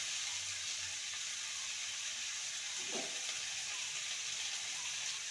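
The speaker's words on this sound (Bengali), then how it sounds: "পাওয়ার কমিয়ে আলু আর কুঁদরিকে ভালো করে ভেজে নিতে হবে।" Potatoes and ivy gourd fry in a pan, giving a quiet, steady sizzling hiss with a brief soft stirring scrape partway through.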